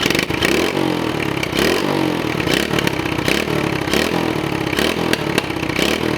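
A pit bike's small, buzzy engine with a new spark plug revs hard and steadily close by, its raspy whine rising and falling in repeated bursts for several seconds.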